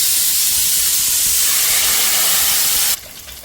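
Oil heats in a cooking pot for jeera rice, producing a loud, even hissing sizzle that runs steadily, then drops abruptly to a quieter hiss near the end.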